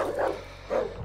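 A dog in Darkwood gives two short barks close by, spaced about half a second apart, sharp and fairly loud.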